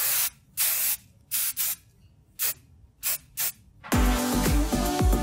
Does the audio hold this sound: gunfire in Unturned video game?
no